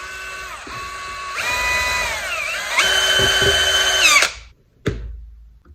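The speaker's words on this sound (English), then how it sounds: "Just drill out the old grommets." A power drill whines at changing speeds as it bites through old metal boot lace grommets, then stops with a sharp clunk of the tool being set down.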